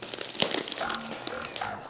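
Tape crinkles and tears in short bursts as a parcel sealed with strong packing tape is worked open, with soft handling noises and faint voices around it.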